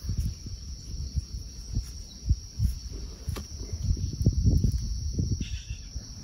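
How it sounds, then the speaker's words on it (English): Crickets chirp steadily in a high, thin drone across an autumn garden, with soft, irregular low thumps and rustles nearby underneath. "Just the sounds of crickets. And they get very loud at night, but it's a pleasant sound."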